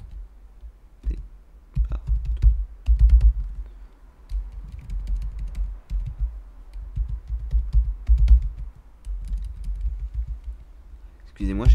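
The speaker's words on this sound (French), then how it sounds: "j'ai pas forcément l'habitude d'écrire avec le clavier français" Keys clack on a French computer keyboard in uneven bursts of close clicks and thumps, with pauses between runs of typing.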